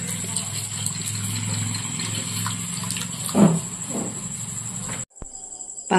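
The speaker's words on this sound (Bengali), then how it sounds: "একটু জল দিয়ে দিচ্ছি এর মধ্যে।" Water pours into a mix of Kashmiri chilli powder and spices for a vegetarian pasta sauce, a steady splashy trickle that cuts off abruptly near the end.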